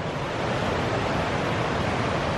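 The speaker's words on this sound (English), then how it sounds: "What an amazing river, full of boulders and rocks, fast flowing round the corner there." A fast-flowing Highland river in Wester Ross, Scotland, pours over boulders and rocks, giving a steady, dense rushing roar with no pauses.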